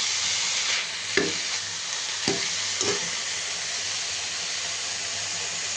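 Fresh garden greens frying in a pan, a steady bright sizzle with a few clanking scrapes from stirring spread through it, fairly close and with no voices.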